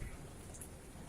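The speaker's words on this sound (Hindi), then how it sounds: "खूब जोर से बारिश हो रही है।" Heavy rain falls on a garden lawn and plants, a faint, dense, even hiss with scattered drop patter throughout the short clip.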